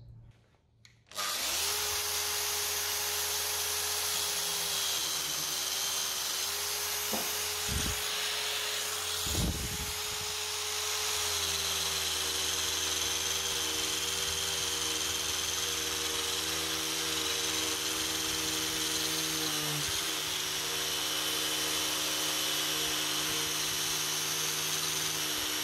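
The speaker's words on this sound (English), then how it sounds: "we're going to put the felt disc on with the PV101, the green polishing soap, just to put a bright mirror polish straight onto the surface" A power tool spins a felt disc loaded with green polishing soap against a stainless steel TIG weld, a steady close whine with brief knocks and a pitch dip as pressure changes.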